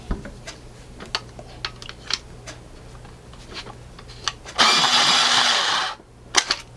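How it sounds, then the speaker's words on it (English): An AFMAT variable 6 to 12 mm electric pencil sharpener grinds a pencil in a loud, steady burst of about a second and a half, set among scattered light clicks and taps from handling. "I'm sort of tilting it because I want you to see the sharpening action here"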